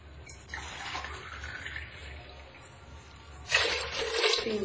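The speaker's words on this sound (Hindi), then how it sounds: "अब हम पानी डालेंगे" Water poured from a glass into dal being cooked in a pot, two splashing pours with a quiet gap between them, the second one louder and closer.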